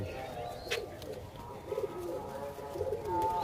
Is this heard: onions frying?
no